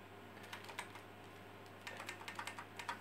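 Keys clatter on an Olivetti M24 computer with an Italian keyboard while DOS 3.10 is being installed, a faint irregular run of clicks in short bursts over a low steady machine hum, with no talking.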